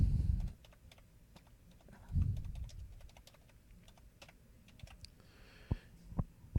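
Poll question being typed on a computer keyboard, a quick close run of light key clicks with a few louder thumps and a couple of final firmer taps.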